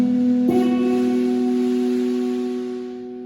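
A guitar picking pattern across several strings, with a fresh pluck early on; the layered notes ring together, loud and close, then gradually die away with no talk.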